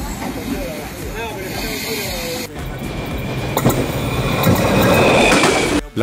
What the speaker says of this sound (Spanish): la Trochita vuelve a seguir prestando servicio en Río Negro, esta vez subiendo por sus propios medios al carretón